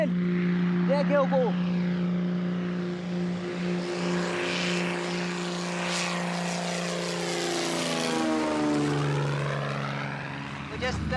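Light propeller aircraft flying low over a runway near Monkey Bay, Malawi, its steady engine drone loud and close for the whole stretch, with the pitch falling as it passes.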